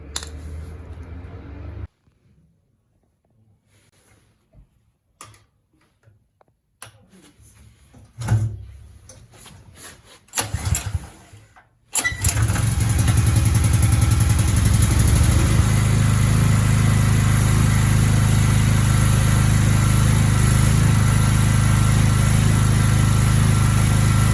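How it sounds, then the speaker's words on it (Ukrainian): A FULL GL 3500L petrol generator sits quiet, gives a few short clattering attempts, then starts at about 12 seconds and runs on with a loud, steady engine drone to the end. "включаємо, дивимося, щоб тут було виключено і заводимо генератор"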